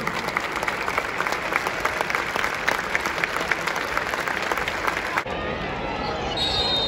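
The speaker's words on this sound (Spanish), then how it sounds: "Aplausos por el fallecimiento de Hugo Hernández, el ex auxiliar técnico del equipo de Tigres" A stadium crowd at a Tigres vs Xolos Liga MX match applauds in tribute. The clapping is dense and sustained, with the general roar of the stands behind it. Voices are heard in the crowd noise, and the sound eases near the end.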